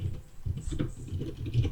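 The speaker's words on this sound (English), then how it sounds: "the light rain picks up and begins to get heavier" Rain patters steadily in a tabletop role-playing game scene, a soft broadband wash that swells in intensity as the light rainfall picks up and grows heavier, with no voices over it.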